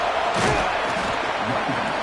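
Crowd noise at a San Jose vs Oregon college football game, a loud, steady stadium roar that fills the whole stretch, with a commentator's voice over it.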